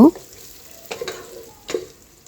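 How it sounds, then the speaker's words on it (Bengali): Onions fry in a pan for a beef biriyani, a quiet steady sizzle with a couple of brief stirring scrapes, heard alone with no talk. "এবার আমি একটি প্যানে পেঁয়াজ ভেজে নেব"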